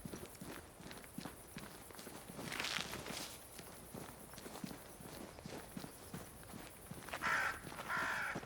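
Crows caw in bursts in the video game Banishers: Ghosts of New Eden, heard over steady footsteps crunching along a path amid outdoor ambience.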